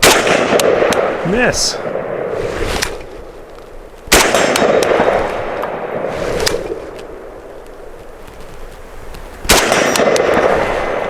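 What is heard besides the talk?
WBP Fox rifle being fired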